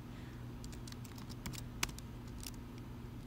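Quiet clicking of a computer keyboard while code is typed into a web editor, with irregular soft keystrokes and a few sharper taps over a low steady hum, no voices.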